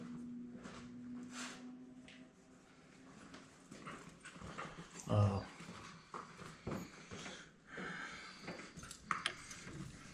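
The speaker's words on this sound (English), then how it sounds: "my dog's gonna go crazy" A dog whimpers and gives short barks near a garage where a Tahoe's steering gear is being replaced, with a few sharp yelps over a low background hum and some knocking.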